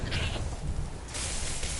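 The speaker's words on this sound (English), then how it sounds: "whoa, look at that goat" A goat bleating in a couple of wavering, nasal cries, close and fairly loud, with no talk over it.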